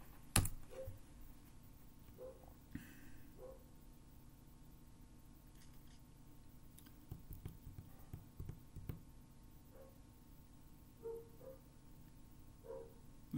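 Soft, sparse keystrokes on a computer keyboard, a few scattered taps and clicks, quiet and close with no voice over them.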